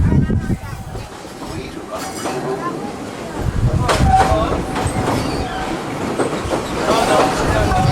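A Walt Disney World passenger train rolling along its rails, a steady rumbling clatter with wheel noise and occasional squeals, continuous and close throughout with no talk.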